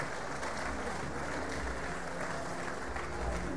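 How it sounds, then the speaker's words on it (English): Crowd applause for shearers at the Golden Shears competition, a thick, continuous roar of clapping in a large hall, steady and fairly loud throughout. "Give them a one round of applause"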